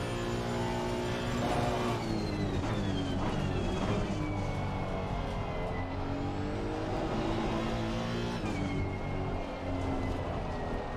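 A race car engine howls continuously in a racing game at Silverstone, shifting pitch with gear changes and rising revs, loud and close throughout.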